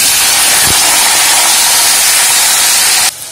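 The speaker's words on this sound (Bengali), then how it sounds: "তেল গরম হলে একটু মোটা করে কাটা, গোল গোল করে কাটা উচ্ছেগুলো ভালো করে ভেজে নেব।" Thick round slices of bitter gourd fry in hot mustard oil in a wok, giving a loud, steady close-up sizzle and hiss that runs unbroken for about three seconds before cutting off abruptly.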